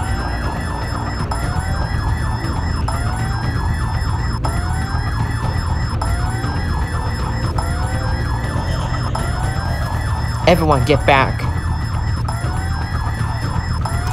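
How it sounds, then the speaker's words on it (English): Alarm siren in the Roblox game Field Trip Z during a zombie outbreak, a steady wailing tone held throughout under constant background game noise, with a short burst of rising whoop-like sweeps near the end and a voice shouting briefly. "The alarm started with the zombies."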